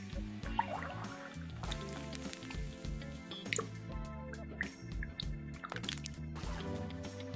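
Irregular drips and small liquid splashes patter throughout, mixed over a steady soft musical bed, fairly close and moderately loud.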